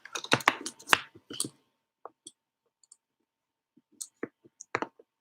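Several sharp computer mouse clicks in a quiet room, arriving in quick clusters and then as scattered single taps, close and crisp with silence between them.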